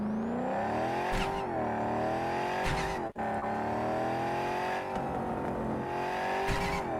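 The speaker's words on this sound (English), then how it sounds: "Listen to that engine." A damaged car's engine revs and holds a high, droning pitch in Cyberpunk 2077, loud and close, rising and dipping with the throttle. Tires squeal faintly and there is one brief cutout.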